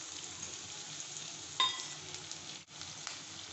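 Garlic cloves and a split piece of ginger fry with softened onion in a pan while making paneer butter masala: a soft, steady sizzle throughout, with a brief utensil clatter partway through.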